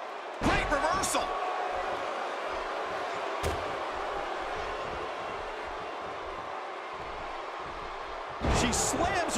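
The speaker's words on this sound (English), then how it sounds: "She slams her down with great force." Heavy body slams thud onto the ring mat in the WWE 2K17 video game: a sharp impact near the start, another in the middle and a louder burst near the end, over a steady crowd roar.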